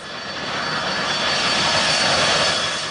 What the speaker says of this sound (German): Im Viertelstundentakt gehen dort Maschinen über die Köpfe der Urlauber hinweg.